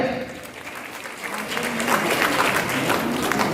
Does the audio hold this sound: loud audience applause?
yes